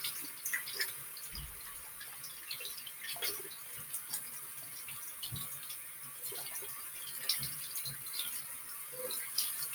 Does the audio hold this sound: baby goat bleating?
no